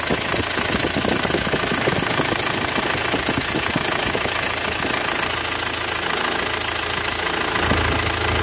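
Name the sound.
Isuzu Panther engine running after starting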